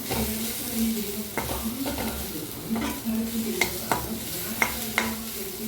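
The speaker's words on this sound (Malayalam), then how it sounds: "2-3 ചെറിയ ഉള്ളി, 2 കറിവേപ്പില അതും ഇട്ടിട്ട് ചെറിയൊരു ബ്രൗൺ കളറായി വരട്ടെ." Shallots and curry leaves frying in hot oil in a pan, a continuous crackling sizzle punctuated by spoon stirring clicks and scrapes against the metal, close up with no talking.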